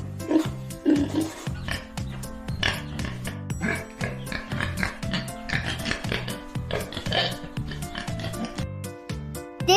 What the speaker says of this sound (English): This animal name is pig.